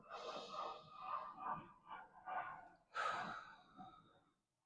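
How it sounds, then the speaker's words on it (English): Slow, audible breathing close to the microphone during a guided nervous-system relaxation: several soft airy inhales and exhales in uneven surges, one fuller breath near the end, then silence. "Take a deep breath in."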